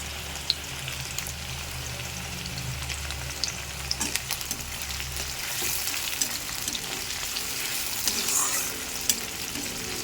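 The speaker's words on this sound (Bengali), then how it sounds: "এবার আস্তে আস্তে পেঁয়াজটা ভাজা হোক" Onions fry in hot oil in a pan for a home lunch curry, a continuous close crackling sizzle with occasional stirring clicks and scrapes, no voices.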